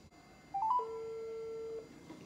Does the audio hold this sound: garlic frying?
no